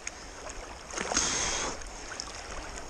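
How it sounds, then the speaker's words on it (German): Water laps and swishes against a paddled boat on a river, with a soft wash of waves swelling briefly in the middle; quiet and close, no voices. "Sag mal, was hier für Wellen entstehen."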